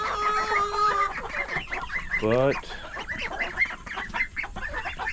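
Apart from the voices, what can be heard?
chickens clucking, Brahma and Silkie breeds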